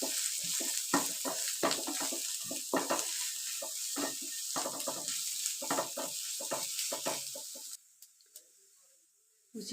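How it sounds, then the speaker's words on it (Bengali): Dry spices sizzle in a pan: ground coriander, red chili powder and Kashmiri chili powder for an egg and potato dish. A spoon stirs and scrapes in repeated strokes over a steady hiss, and the sound drops away near the end. "সমস্ত ড্রাই মশলাগুলো ভালো করে কষিয়ে নেব।"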